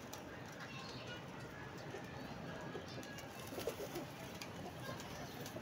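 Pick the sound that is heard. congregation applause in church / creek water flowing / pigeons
pigeons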